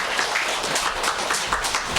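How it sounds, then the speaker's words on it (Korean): A church congregation at a Korean Presbyterian Christmas service applauds after an infant baptism, with a steady wash of many hands clapping at moderate volume throughout. "네, 크게 박수하겠습니다."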